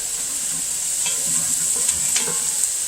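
Onions cook down in a pan, giving a loud, continuous sizzle with a few faint scrapes and stirring clicks as they are moved around.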